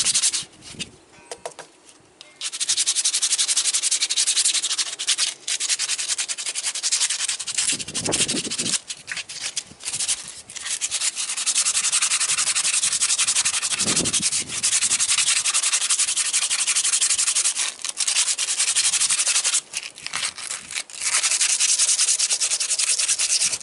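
A steel knife blade is sanded by hand with 100 grit sandpaper, producing a long, loud, continuous rasping scrape made of repeated back-and-forth strokes, very close and heard alone after a quiet opening few seconds.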